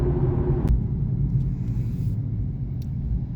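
Cars driving through downtown Wichita at night, a steady low road rumble of engines and tires heard from inside a moving vehicle, with a brief sharp tick near the start and no talk.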